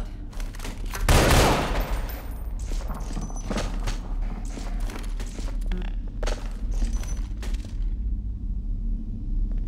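Gunfire in the video game Entropy Zero 2 during the finale, with one heavy close blast early on and then scattered shots and rapid bursts against a low rumble, fading near the end.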